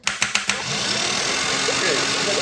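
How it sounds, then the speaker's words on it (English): Close, loud whir of a turbocharged Chevrolet Cavalier engine being spun by the starter, opening with a few rhythmic cranking pulses before settling into a continuous droning spin. "We're going to get it spinning with the starter."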